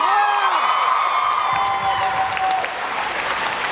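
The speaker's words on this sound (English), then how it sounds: "Let's have a round of applause for Kevin Feige, shall we?" A convention panel audience claps and cheers loudly, with whoops rising over the crowd noise before the applause gradually fades.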